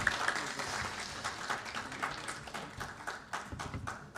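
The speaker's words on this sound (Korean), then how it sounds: "큰 박수 부탁드립니다." Audience applause follows a seminar presentation on the fourth industrial revolution, a moderate steady patter of many hands clapping across the whole stretch with no talking over it.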